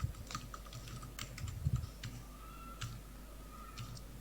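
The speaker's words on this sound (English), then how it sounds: "type the HTML code." Quick, irregular keystrokes on a computer keyboard while HTML code is typed into a text editor, light close clicks in short bursts over a quiet background.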